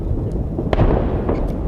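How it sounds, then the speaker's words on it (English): A distant secondary explosion of a SpaceX prototype rocket, a sharp crack standing out over a continuous low rumble, with faint pops around it and no talking. "And there's a secondary blast there."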